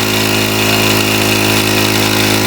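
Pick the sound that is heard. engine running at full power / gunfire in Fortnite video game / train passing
engine running at full power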